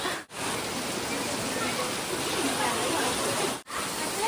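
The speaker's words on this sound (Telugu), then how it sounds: "ఇక చూసిరా ఫ్రెండ్స్ ఎంత వర్షం" Heavy rain pours down steadily in a village, a dense continuous hiss filling the scene with two brief dropouts, no voices heard.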